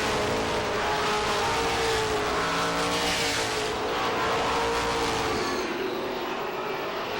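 Pro stock cars race on Lee USA Speedway during a 100-lap feature, their engines a steady, loud roar that swells and fades slightly as the pack passes, with no break in the noise.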